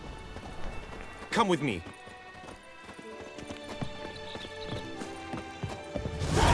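Roach, a horse in a video game, gallops with quick, steady clip-clop hoofbeats that swell close and loud, along with a whinny and snorts, while someone speaks briefly over the riding.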